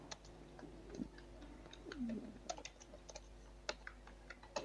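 Quiet, irregular typing on a computer keyboard, with short bursts of light key clicks and taps close by and no talking.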